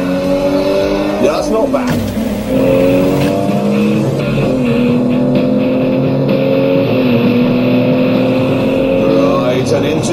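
A car is driven hard around the Top Gear test track, its engine note rising and falling through gear changes with a brief tire squeal, loud and close throughout while someone talks over it.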